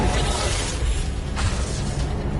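A dense, broadband magical fire blast from the Incendio spell in Hogwarts Legacy, a sustained roaring burst with crackling, shattering texture filling the whole clip, loud and close, with no talk.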